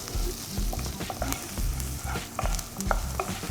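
Whole coriander seeds, black peppercorns and crushed chopped garlic sauté in hot oil for a Chettinad mutton soup, crackling and sizzling steadily with repeated scraping stirs of a spoon against the pan, close and continuous, no voices.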